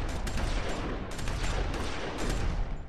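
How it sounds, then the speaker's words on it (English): Dense gunfire from several shooters in The Walking Dead Season 2 video game, a continuous crackling barrage of overlapping shots over a low rumble, lasting the whole stretch without speech. "And then everybody started shooting."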